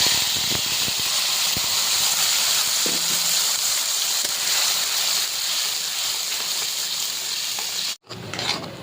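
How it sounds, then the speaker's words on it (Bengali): Pointed gourd paste hits hot white oil with asafoetida in a kadai, giving a loud, continuous close-up hiss and crackle that runs steadily, then cuts out briefly near the end before resuming. "কড়াইতে সাদা তেল দিয়ে দিলাম এবার হিং দিয়ে দিলাম পটল বাটাটা দিয়ে দিলাম"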